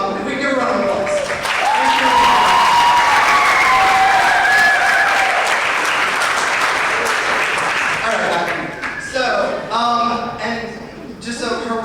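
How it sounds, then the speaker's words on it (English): An audience at a McT Drama production of And Then There Were None breaks into loud, sustained applause for about eight seconds before it thins out and voices talk over the last scattered claps. "if we could give her a round of applause."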